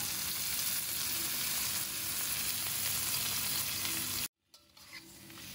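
Squid sizzles and fries steadily in a hot pan for squid-ink fried rice, a loud continuous crackle with stirring, cutting off abruptly near the end before quieter frying resumes.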